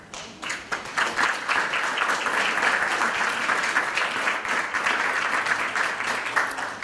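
An audience at a village state-of-the-village address bursts into applause after a short quiet moment, then keeps up a full, even round of clapping that holds steady throughout.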